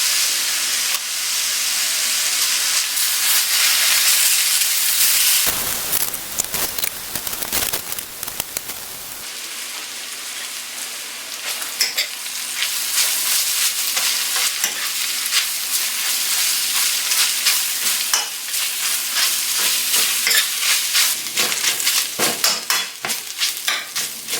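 Chicken pastil frying in butter in a pan while being stirred, a steady loud sizzle with scraping stirs throughout and a brief softer dip partway, no talking.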